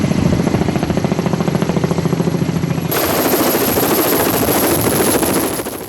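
Loud, close Mokpo Coast Guard rescue helicopter rotor chopping rapidly with a whining engine, landing on a ship's deck in strong sea wind, the thumping pulses steady throughout and a high-pitched turbine whine rising midway.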